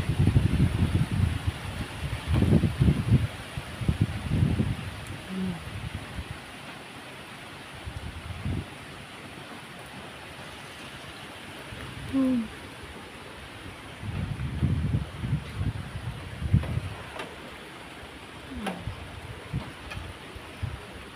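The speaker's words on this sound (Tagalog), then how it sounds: "Hihina tapos biglang hangin." Typhoon wind in Taiwan gusting against the microphone in rumbling bursts that rise, fall away to a quieter lull in the middle, then return in renewed gusts.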